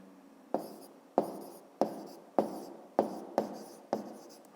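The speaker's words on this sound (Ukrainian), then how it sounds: "Пишемо тоді відповідь." A pen writes a maths answer on paper by hand, producing seven evenly spaced scratchy strokes, close and clear, with no talk.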